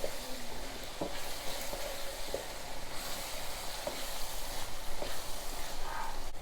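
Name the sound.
spices sautéing in a pan for South Indian garlic thokku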